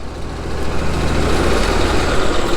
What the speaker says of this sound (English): this is their little farm tractor